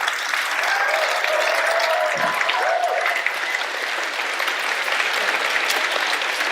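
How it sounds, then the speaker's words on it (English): Steady applause from an audience at a panel event, continuous even clapping that holds at a moderate level for the whole stretch. "let's give a huge round of applause right here"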